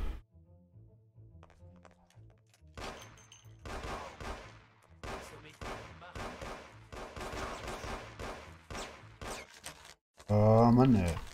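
Gunfire in the video game Mafia comes as repeated bursts of sharp shots against game background sound, building over several seconds, then ending in a louder, sustained blast at the close.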